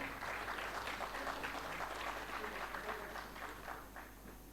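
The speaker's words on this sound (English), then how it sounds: "A huge round of applause for our chief guest" Applause from the audience at an MSME startup conclave inaugural session, a faint, distant-sounding patter of clapping from a crowd that slowly fades toward the end.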